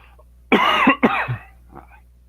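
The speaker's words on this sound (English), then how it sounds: "Promise I'll stop coughing at some point here. It's just a little bit of dry throat." A person with a dry throat coughs twice in quick succession, close and fairly loud, followed by a faint throat-clearing rumble.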